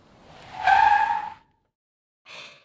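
A car skids to a stop with a loud, squealing tire skid that lasts about a second, then a shorter, fainter scrape follows after a pause. No voices.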